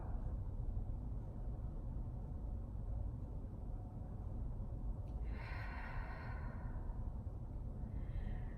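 Slow breathing in and out during a yoga relaxation session, a soft close exhale rising out of a quiet hiss after a long faint stretch, followed by a second gentler breath.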